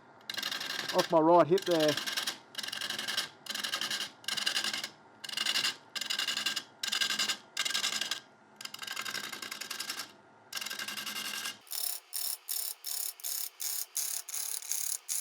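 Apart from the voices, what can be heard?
wood lathe gouge turning a wooden chopping board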